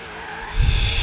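Chevrolet car drifting in Forza Horizon 3, its tires skidding in a brief, loud squeal that swells abruptly in the second half over a steady engine drone.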